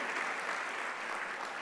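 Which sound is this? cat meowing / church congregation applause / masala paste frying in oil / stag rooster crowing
church congregation applause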